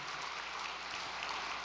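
An audience offers a round of encouraging applause at a church gathering. It comes as a faint, distant, continuous patter of clapping with no voices over it.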